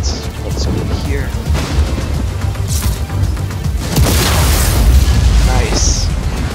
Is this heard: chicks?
no